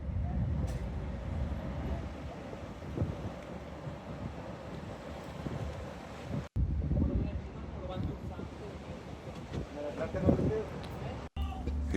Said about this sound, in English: Getting pushed along by the wind.